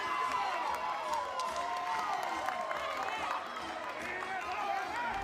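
Crowd noise from spectators at Joanne Graff Field during an Auburn versus Florida State NCAA regional softball game, a steady, fairly distant wash of cheering and chatter that carries on throughout.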